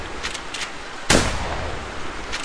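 A single loud gunshot cracks sharply outdoors during a goose hunt, following a few faint distant pops, then fades into the open air with no talking.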